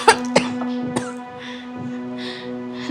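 A few sharp coughs close to the mic, spaced apart early on, over a steady hum and faint background noise.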